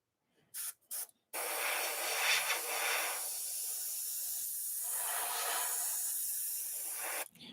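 Aerosol spray paint going onto a model RC body as a light, thin first coat: a few short bursts, then one long steady hiss lasting several seconds, close and fairly loud, with no talking.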